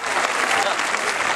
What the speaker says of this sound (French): les applaudissements pour l'écarteur.